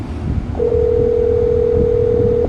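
A steady electronic tone sounds through a Jeep's Bluetooth phone system as a call is placed, holding continuously for about two seconds over low cabin rumble.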